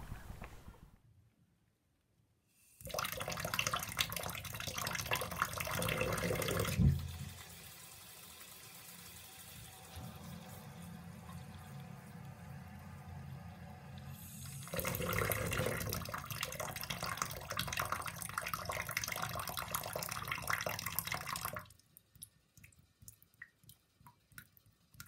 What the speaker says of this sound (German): Eben Wasser aus dem Wasserhahn.